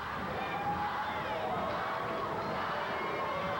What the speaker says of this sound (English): the crowd starts that staccato chant, Wahoo, Wahoo